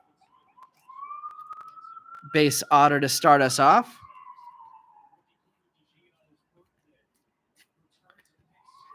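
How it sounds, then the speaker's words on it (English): Distant New York City emergency siren holding a steady wailing tone in the background for several seconds while someone talks briefly over it. "we get some New York City sirens going on in the background"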